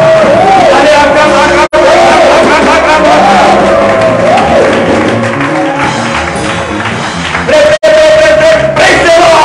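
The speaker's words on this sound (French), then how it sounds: "Est-ce que vous pouvez se tenir debout et acclamer Jésus?" A church congregation on its feet cheering to acclaim Jesus, loud crowd shouting and babble with a leader's amplified voice rising over it, sustained for several seconds with two brief cut-outs.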